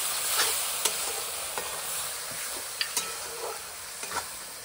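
Ginger and chili spice paste fries in a pan for a Bengali stingray fish curry, a steady hiss of sizzling oil punctuated by several sharp clicks of a spoon against the pan, with no voices.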